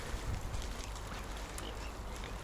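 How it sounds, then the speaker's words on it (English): Ducks quacking beside a canal near Stroud in the Cotswolds, faint repeated calls set in a noisy outdoor wash of wind and water, with no one talking. "I'll go for the birds over there."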